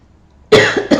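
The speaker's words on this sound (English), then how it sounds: "I'm coughing because my throat chakra is clearing" Silence, then a sudden loud cough, followed by a second, shorter cough burst close to the listener.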